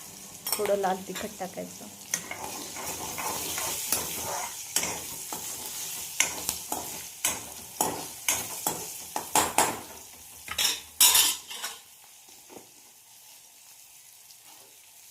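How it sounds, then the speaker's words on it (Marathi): Green chillies fry in a pan with a steady sizzle while a spoon stirs and scrapes against the metal in repeated knocks. A person speaks briefly over the cooking. "छान प्रकारे फ्राय होऊ द्यायच्या मिरच्या."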